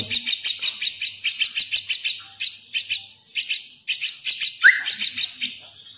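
Javan myna (jalak kebo) chick begging for food with rapid, repeated shrill chirps in close bursts, loud and insistent throughout with brief pauses between runs.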